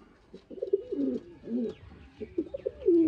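A two-year-old Sialkoti pigeon cooing in a few soft, throaty bursts, close by and fairly quiet, with brief pauses between calls.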